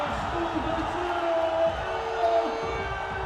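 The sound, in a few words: basketball crowd cheering a dunk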